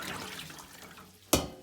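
Water is dumped from a cooking pan into a sink in one short, loud splash near the end, after a stretch of quiet kitchen room noise.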